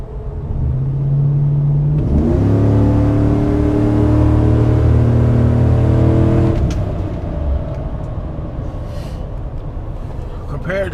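A 2007 Chevy Avalanche with a performance cam and its displacement-on-demand system deleted drives down the road, its V8 engine rumbling and rising in pitch as it accelerates, then settling into a steady cruising drone.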